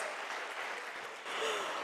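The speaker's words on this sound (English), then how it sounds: "that deserves a huge round of applause" An audience at a business leadership event applauds steadily for a moment, a dense, even patter of clapping that swells slightly near the end.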